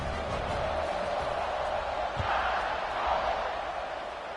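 A stadium crowd roars in NCAA 26 college football, a loud, sustained, swelling wash of cheering with a dull thud partway through.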